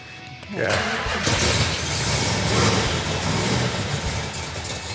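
A car engine with a very large Comp Cams camshaft, in a 440 six-pack build, cranks and fires up, then settles into a loud, lumpy rumbling idle close by, with voices faintly underneath.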